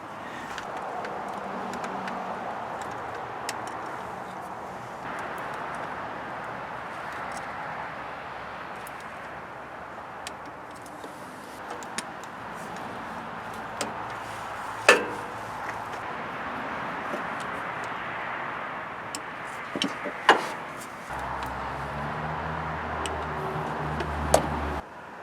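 A torque wrench set to 85 inch-pounds tightens the valve cover bolts on a 2008 Polaris RZR 800. A few sharp, isolated clicks stand out over a quiet, steady workshop background, with no talking.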